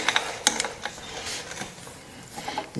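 Wrench working a rusty threaded fitting on a 1989 Suzuki RMX 250 dirt bike, giving a few sharp metallic clicks and ratcheting scrapes close by, with quieter rubbing between them.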